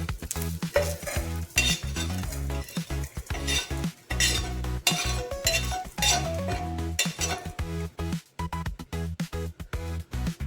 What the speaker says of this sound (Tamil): ரெண்டு சைடும் திருப்பி விட்டு வேக வச்சு இப்போ எடுத்துக்குவோம்